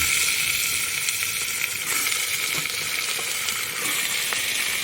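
Mutton and browned onions frying in hot oil for a mutton dum bhuna, giving a loud, steady, close sizzle with faint crackles throughout and no talking.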